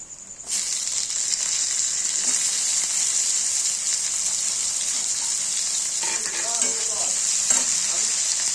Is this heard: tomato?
yes